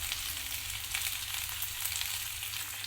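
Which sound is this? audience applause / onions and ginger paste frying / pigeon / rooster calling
onions and ginger paste frying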